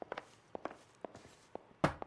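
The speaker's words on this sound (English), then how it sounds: "I'm hearing footsteps though. Somebody somewhere." Footsteps in the LA Noire video game, a run of light, evenly paced steps close by, ending in a louder scuffing thump with no voices.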